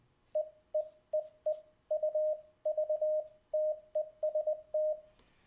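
Short high beeps of a single steady tone from a Morse keyer's local sidetone come in quick keyed bursts, dots and longer dashes, faint and clean with no other sound.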